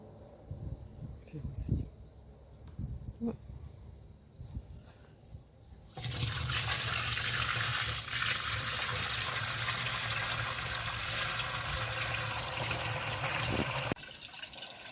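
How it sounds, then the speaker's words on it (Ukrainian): Homemade wine strained through gauze and poured into a food-grade barrel: a loud, steady rush of liquid runs for about eight seconds after quieter handling noises and voices, then drops off. "на харчову бочку і переціджуємо все вино, яке в нас утворилося"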